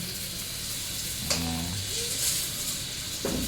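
Eggplant fries in a pan in a home kitchen, a steady close sizzle with brief stirring scrapes and a faint hiss running through.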